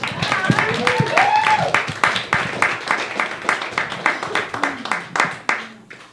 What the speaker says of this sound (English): That deserves more applause, everybody.